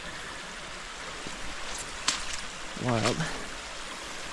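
A shallow stream only a few inches deep flows over rocks on an overgrown hiking trail, a steady, soft rushing babble, with a brief spoken word near the end.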